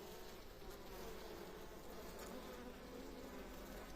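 Honeybees buzz steadily and densely at an open hive during an autumn colony inspection, a close, continuous drone with no talk over it.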